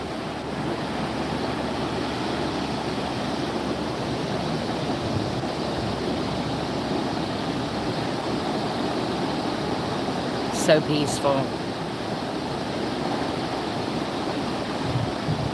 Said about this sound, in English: aren't the waves? They sound so good.